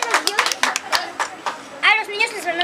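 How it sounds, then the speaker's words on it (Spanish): Children and adults clap at a Minnie Mouse birthday party as the cake is served, quick scattered hand claps close by mixed with excited voices and chatter. "Fuerte el aplauso."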